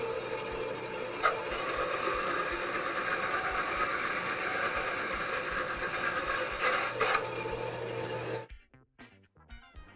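A metal rod being cut in a workshop, with a steady, fairly loud grinding whine that holds for about eight seconds and then drops away into quieter clatter.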